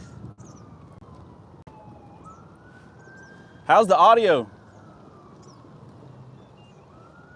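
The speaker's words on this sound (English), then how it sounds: "there's been 10 ambulances come over that bridge since I started trying to go live" A passing siren wails briefly at moderate volume from a bridge over the Coosa River, rising out of steady traffic hum for about a second before fading back.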